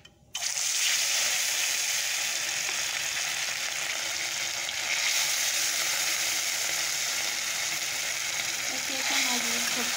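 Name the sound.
fish frying in hot oil in a wok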